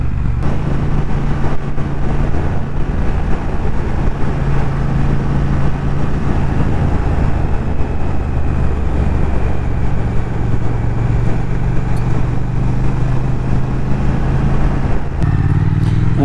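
A 2019 Triumph Thruxton R motorcycle ridden along twisty roads, its engine droning loud and steady from start to finish with a throaty low rumble and no talk over it.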